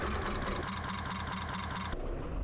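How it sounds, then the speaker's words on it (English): A Karosa C954 bus in the OMSI 2 simulator starting up cold in minus 16 degree weather, its heavy diesel engine rumbling steadily with a rhythmic knock, loud and close, then the tone shifts near the end. "And that was a cold start at minus 16 degree weather."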